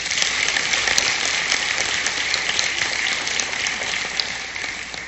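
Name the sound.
audience applause welcoming newly elected board of directors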